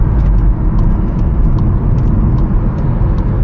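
VW Nivus with a 1.0 engine accelerating on the road, heard from inside as a steady low rumble and road roar with faint ticking clicks above, no talk.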